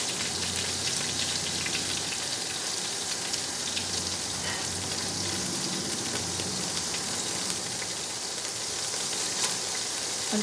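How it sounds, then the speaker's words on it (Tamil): Margarine sizzling in a hot pan, a steady, even crackling hiss like light rain that runs on without a break, moderately loud and with nobody talking. "இப்போ நான் அதே பேனில் மார்ஜரின் கொஞ்சம் போடுறேன்"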